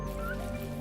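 A dog in the video game Valiant Hearts 2 gives a brief yipping bark and whimper, close and moderately loud, under a steady low game background hum.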